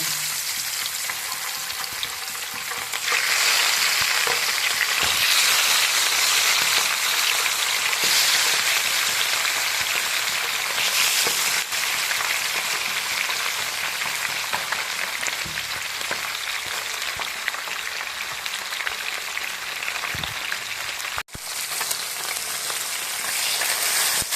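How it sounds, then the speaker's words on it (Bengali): Small papda fish frying in hot oil in a village-style home kitchen, a loud, steady crackling sizzle running for the whole stretch with no talk over it. "তেলটা আমার গরম হয়ে গেছে মাছগুলো ভেজে নেবো"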